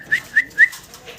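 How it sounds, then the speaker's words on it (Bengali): A pair of Golla pigeons gives three short, clear calls in quick succession followed by softer trailing sounds, close and loud, with no talk. "খুবই সুন্দর একটা কবুতর"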